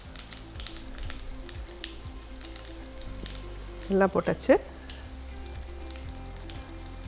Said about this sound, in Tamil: கடுகு பொரியிறது